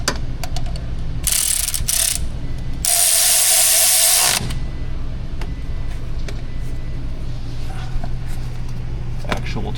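A ratchet tightens the motor mount bolts on a Chevy Cruze 1.4, giving two loud bursts of rapid clicking, with a steady background hum underneath and no talk.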